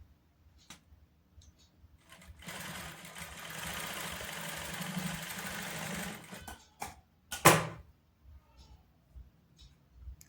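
A sewing machine stitches a bridal lehenga blouse, running in one steady whirring burst of a few seconds, followed by a few sharp handling clunks in an otherwise quiet room.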